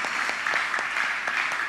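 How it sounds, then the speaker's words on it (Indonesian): Church congregation applauding together, a steady dense clapping that holds at an even level through the short stretch with no voices on top. "Beri tepuk tangan bagi dia."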